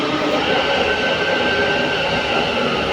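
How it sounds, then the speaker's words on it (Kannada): A late-night Bangalore metro train on the Majestic to Kengeri line rolls in, a loud steady rumbling roar with a thin high wheel squeal running through it, no talk heard. "11:39 ಮೆಜೆಸ್ಟಿಕ್ಕಿಂದ ಕೆಂಗೇರಿಗೆ ಹೋಗೋ ಲಾಸ್ಟ್ ಮೆಟ್ರೋ."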